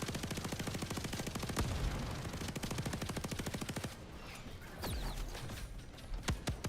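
Rapid automatic weapon fire from the Starship Troopers VR video game, a dense steady barrage of shots that breaks off partway and resumes with a few scattered louder bursts, alone without talk.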